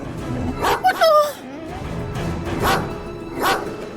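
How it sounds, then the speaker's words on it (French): A few sharp dog barks and yips in quick succession near the start, followed by scattered shorter yelps over background noise. "Ce chien méchant t'aboie dessus."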